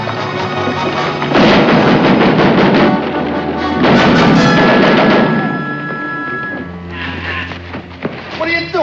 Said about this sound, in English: Battery of rifles.